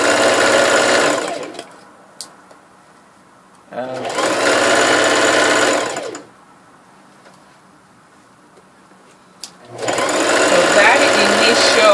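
A sewing machine running a zigzag stitch along a fabric edge, three loud close whirring bursts of a few seconds each, separated by quiet pauses where a voice briefly speaks.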